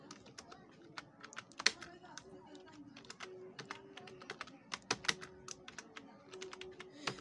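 Typing on a computer keyboard, a steady run of quick, light key clicks with irregular rhythm and a few louder taps, close and fairly quiet with a faint hum beneath.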